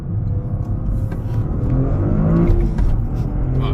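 A GRC car engine revs hard through gear shifts at high RPM, a loud, close, rising and falling roar with quick pitch sweeps and no talking.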